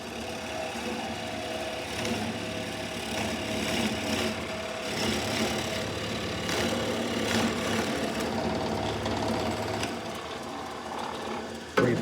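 A drill press motor runs steadily as the bit is fed down into a board for a gumball machine build, a continuous mechanical whir with grinding texture close by, ending in a brief knock.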